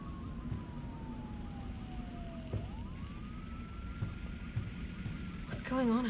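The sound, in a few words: siren blaring in a video game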